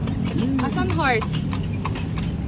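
Horse hooves clip-clop steadily on a street in Intramuros, close and loud, with a short whinny in the middle and people talking over it.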